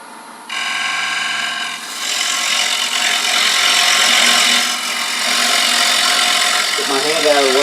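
A heavier bowl gouge cuts wood on a lathe while turning a paten, giving a steady, close rasping scrape that runs without a break, with a brief low voice or noise near the end.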